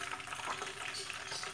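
Hot oil used to fry shrimp is poured over coarsely crushed sambal and sizzles in a dense, crackling hiss that holds steady and fairly loud throughout, with no speech.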